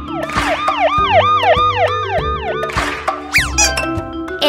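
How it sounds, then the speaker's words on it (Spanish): A police car siren wails in quick, repeating rise-and-fall cycles, loud and close, ending with a short upward sweep and chiming tones. "El coche de policía."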